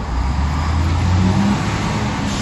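A motorcycle engine revs loud and close, a steady throaty drone with its pitch rising slightly midway, heard alone without talk.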